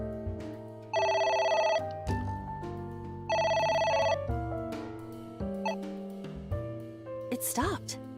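Telephone ringing in the video game AI: The Somnium Files, two loud electronic trilling rings with a pause between, followed by game music and someone talking.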